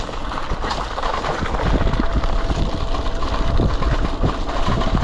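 Kugoo v3 Pro Plus electric scooter rattling over a broken, rough road, a steady loud rumble of wheels and bumps with dense jolting thuds throughout, no voices.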